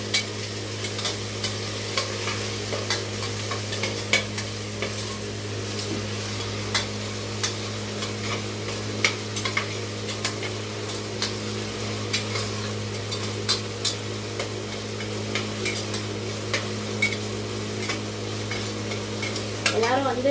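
Onions and tomatoes with salt sauté in a pan, a soft continuous sizzle with occasional stirring scrapes, steady and close, with no talking.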